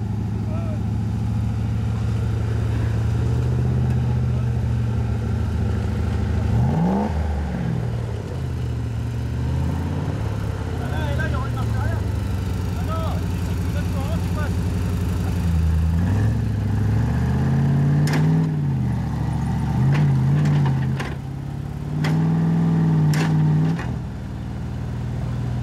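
An off-road vehicle's engine labors with its rear wheel dropped deep into a rut, the steady drone rising and falling in pitch as it strains and revs, loud and continuous, with a voice over it.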